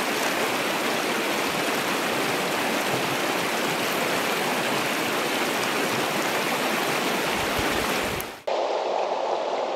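Rushing creek water in Utah's Uinta Mountains flows steadily and loudly, a constant close-up babble that cuts off abruptly near the end.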